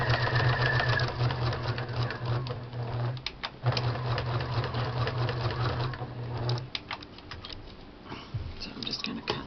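A sewing machine stitches across a bag flap edged with beaded trim, running in steady bursts with a short pause mid-way, close and loud, then winding down near the end.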